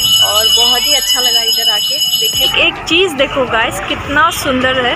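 Bells ring for evening aarti at an old, famous Ganesh temple in Tezpur beside the Brahmaputra, a sustained metallic ringing that sits under a person talking and later merges with background bustle.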